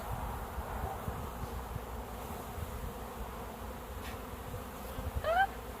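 Honey bees shaken out of a package buzz in a low, steady drone, quiet and continuous, with a brief higher-pitched chirp near the end.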